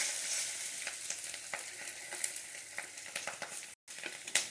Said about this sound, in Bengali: এগুলো আমি একটু ভেজে নেব।